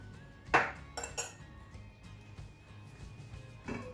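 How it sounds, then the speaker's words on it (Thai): A metal lid goes onto a cooking pot of simmering chicken and dill curry, with one sharp clanking clatter followed by a few lighter clinks and a final soft knock, close by. "ก็ปิดฝา ต้มต่อเลยนะคะ"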